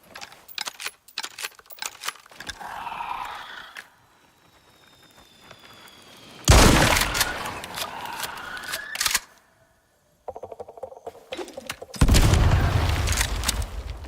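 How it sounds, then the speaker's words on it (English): Pistol fire in the video game ICARUS, heard as several sharp, loud bursts separated by quieter stretches and brief silences, with busy game sounds between the shots. "so the pistol will work just fine"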